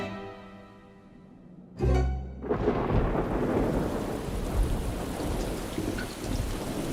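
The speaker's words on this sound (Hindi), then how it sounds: "अरे नहीं, यहाँ तो बारिश शुरू हो गई" A sharp thunder crack breaks a quiet moment, then rain quickly sets in as a dense steady hiss of drops on surfaces, loud and close, continuing to the end with no talking.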